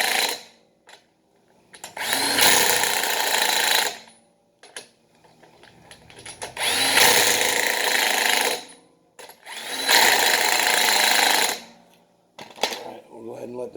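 Impact wrench tightening lug nuts on a 2018 Infiniti QX80 wheel in a cross pattern, three loud sustained rattling bursts of about two seconds each, separated by short pauses with faint handling noises.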